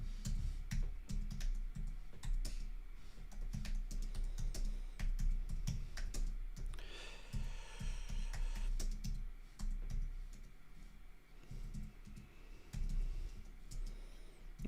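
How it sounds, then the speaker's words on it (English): Close keyboard typing on a computer continues throughout in an uneven rhythm of fast key clicks with short pauses, some taps louder than others, and no talking. "So, let me type this out."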